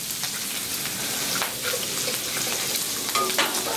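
Clams and clam juice sizzle loudly and steadily on a hot Blackstone griddle top, a dense continuous hiss with light spatter throughout.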